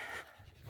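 Dogs on a mountain hike near a ski hill pant softly in a brief, faint burst of quick rhythmic breaths heard close by.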